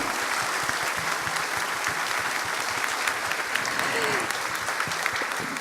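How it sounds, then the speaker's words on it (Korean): Warm audience applause for a company chairman after a lecture in a Korean hall: many hands clapping in an even, sustained wash throughout, with faint murmuring underneath. "자, 다시 한번 열강해 주신 우리 회장님께 여러분 뜨거운 박수 부탁을 드리겠습니다."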